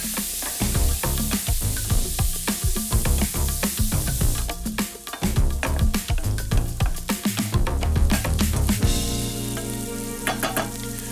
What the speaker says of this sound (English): Mirepoix, the base of all cooking, into a pan with bacon rendering out